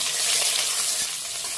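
Bay leaf, garam masala and ginger fry in hot fat in a pan, giving a steady close hiss and sizzle for a brief stretch, alone with no talk.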